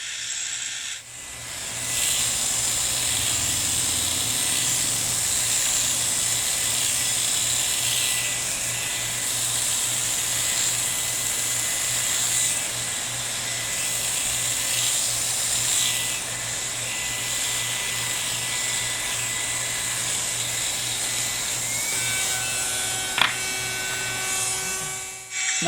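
Electric hair clippers buzz steadily and close for a comb-back taper haircut, a continuous motor hum cutting hair for over twenty seconds with slight changes in tone as they move, no talking.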